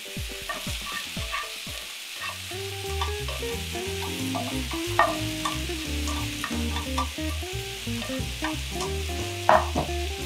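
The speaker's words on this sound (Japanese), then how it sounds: "スパゲティをボイルして冷まして炒めてます" Spaghetti that was boiled and cooled is stir-fried in a pan for a nostalgic Napolitan, giving a continuous sizzle with repeated tossing and scraping. Music plays throughout.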